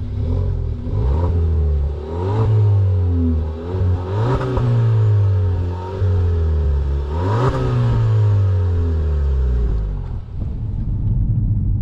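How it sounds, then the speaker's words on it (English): Audi A3 with a stage one remap pulls hard through repeated gears, its engine rising in loud rumbling sweeps broken by brief shift dips, close and continuous before easing off at the end. "this is the stage one software going on and been very quick and very successful."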